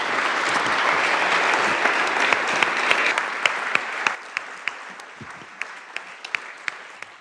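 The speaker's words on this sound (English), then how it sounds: "can I ask everyone to give a great round of applause to our fabulous panel?" Dense applause from an audience honoring a forum panel on Nordic security, loud and sustained at first, then thinning into scattered individual claps toward the end.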